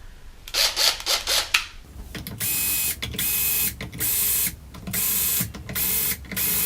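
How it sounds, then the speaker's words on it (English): A Dean Markley Turbo Tune drill attachment winds strings onto a USA Carvin Strat guitar, giving a few quick rubbing scrapes and then repeated even bursts of motorized whirring with short pauses between them. "My trusty Dean Markley Turbo Tune drill attachment, very handy."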